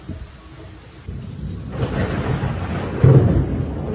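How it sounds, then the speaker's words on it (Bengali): Thunder during heavy rain, a deep low rumble that swells and rolls over steady rainfall, growing louder toward the end. "বাবারে বাজ পড়ছে জোরে জোরে"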